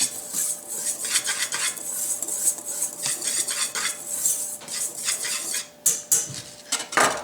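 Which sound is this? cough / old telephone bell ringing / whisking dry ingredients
whisking dry ingredients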